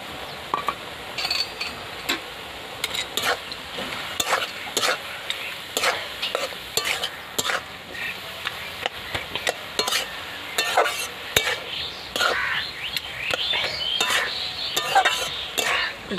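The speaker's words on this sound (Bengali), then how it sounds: "তুলে এবার আমি এই বড়িগুলো দিয়ে দিচ্ছি।" Lentil badis and banana stem being stirred and fried in a pan in a village kitchen, with steady scraping strokes and light clinks over a soft sizzle, close and without talk.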